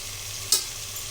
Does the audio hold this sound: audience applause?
no